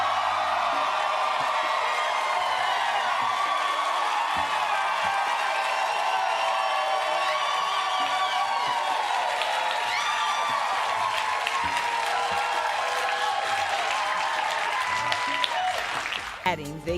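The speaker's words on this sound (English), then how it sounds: "leading to a roar of applause from the audience" A television studio audience roars with loud sustained applause mixed with whoops and cheers, the crowd noise holding at full strength for a long stretch before cutting off abruptly.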